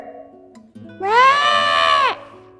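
A single long, loud bleat from a goat, strained and wavering, rising out of a quieter background of soft tones and sustained for about a second before cutting off.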